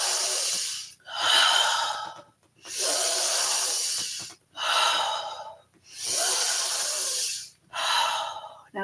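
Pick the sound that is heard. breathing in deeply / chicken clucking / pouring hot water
breathing in deeply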